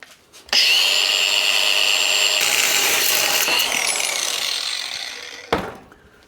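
Power tool, apparently an angle grinder with its safety guard off, cutting through steel plate for a bike stand build: a loud, steady high-pitched whine that runs for about five seconds, then stops abruptly, followed by a brief clank.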